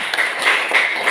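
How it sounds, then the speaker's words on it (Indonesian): Classroom audience clapping hands during an Indonesian teaching practice lesson, a brief burst of dense, fairly loud claps with no talking over it. "Tepuk tangan dulu."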